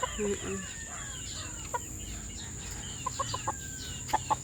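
A young chicken clucks in several short, scattered bursts, fairly faint, over a quiet background with some low rumble.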